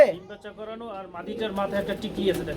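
Soft pigeons cooing nearby, low rolling coos repeating steadily over faint background noise.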